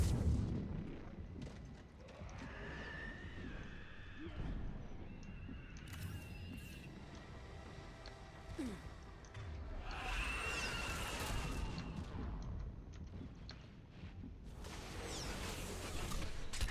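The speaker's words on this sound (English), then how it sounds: "Missiles away. Firing another salvo." Missile salvos launching in Mass Effect 3, a series of whooshing, booming launches and bursts at moderate loudness that come in several waves across the stretch, with little talk.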